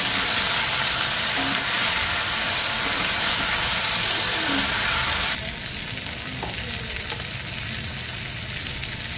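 Fish frying in a pan with turmeric and salt makes a loud, dense, constant sizzle up close, which drops to a somewhat quieter crackle partway through.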